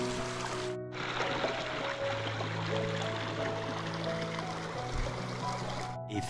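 Water streams and splashes steadily at Masila Falls in the Kolli Hills, a continuous broadband rush with brief low hums alongside, holding at a moderate level throughout.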